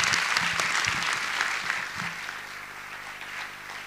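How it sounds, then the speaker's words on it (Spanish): Audience applause at the Delmira Agustini Medal 2014 award ceremony, dense and sustained clapping from a large crowd that slowly thins and fades, leaving a low hum underneath. "Con este entonces gran y fuerte aplauso, despedimos y honramos a todos los grandes de la cultura nacional"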